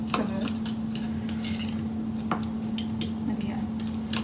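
Metal cutlery scraping and tapping through a thick avocado paste for a breakfast sandwich, a steady close-up stir with soft clinks against the bowl and a constant low hum underneath, no talking.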